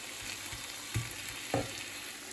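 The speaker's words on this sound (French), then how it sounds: "je vais laisser cuire en remuant régulièrement" Chorizo and vegetables sizzle steadily in a pan, broken by a few soft scraping knocks as a utensil stirs them.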